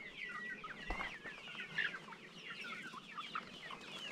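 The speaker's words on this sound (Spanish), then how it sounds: "Hay 70 pollitos." Chickens and chicks cluck and peep on a rural farm, with many overlapping chirps and clucks nearby and a single low thump partway through.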